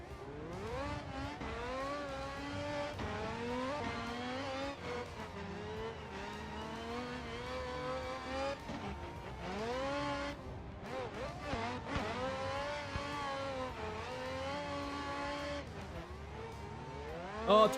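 Rotary-engine drift car in a racing video game, its engine revving and climbing through rising, falling pitches with turbo lag, loud and continuous across the whole stretch, with occasional tire noise and no clear talk over it.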